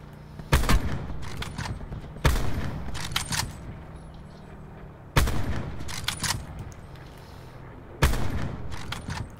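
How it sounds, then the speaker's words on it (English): Gunfire in Call of Duty: Black Ops 4 Blackout comes in four sharp bursts of rapid shots, each followed by a trailing echo, spaced a couple of seconds apart and loud against a quieter game background. "They're getting shot from behind."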